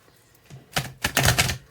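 Tarot cards are shuffled close by during a reading, a brief dense riffle of rapid papery clicks in two or three quick bursts, loud against a quiet background with no talking.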